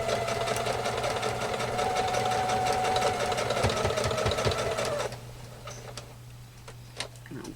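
A sewing machine runs steadily, stay stitching slowly with a fast rhythmic ticking whir for about five seconds, then stops, leaving quiet handling clicks.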